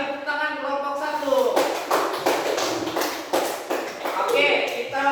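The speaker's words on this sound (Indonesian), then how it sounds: "Sekali lagi tepuk tangan kelompok 1" A seventh-grade classroom gives group 1 another round of applause: a dense patter of scattered hand claps rising and holding for several seconds, mixed in with a teacher's voice.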